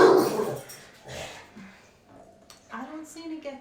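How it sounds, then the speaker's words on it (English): A loud indoor dog gives sharp barks and yips at the start, then quieter whimpering cries and short barks, with someone talking in between. "She's a very loud dog."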